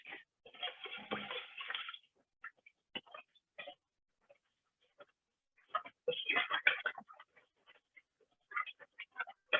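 Honey, mustard and vinegar dressing whisked in a bowl, bursts of fast, clattering whisk strokes with quiet gaps between them, close by.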